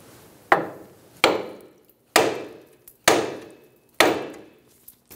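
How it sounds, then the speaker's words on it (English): A hammer strikes a front suspension area near the ball joint of a 2007-2017 Ford Expedition during CV axle replacement, five sharp metallic blows at steady intervals, each ringing briefly and fading, loud and close with no talk. "Using a hammer, we're going to hit in this area."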